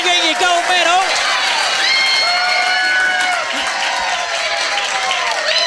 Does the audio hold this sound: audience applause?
yes